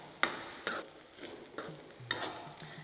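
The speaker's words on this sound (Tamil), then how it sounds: "இந்த நெய்யில் நம்ம தேங்காயை நல்லா வறுக்க போகிறோம்" Grated coconut fries in ghee while a spoon stirs it around the pan for a Tamil kamer kat sweet, with several sharp scraping clinks at irregular intervals over a faint, quiet sizzle.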